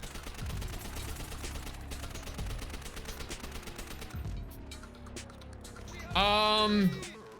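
MP40 submachine gun in Call of Duty: World at War fires in rapid sustained automatic bursts, close and loud, with a brief pause between strings of shots and a short game tone near the end.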